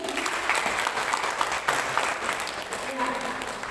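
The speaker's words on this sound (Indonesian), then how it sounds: "Kita tepuk tangan dulu." Audience applause for teachers at a preschool (PAUD) working-group book launch event, steady sustained clapping from a crowd filling the whole stretch, loud and continuous with some voices mixed in.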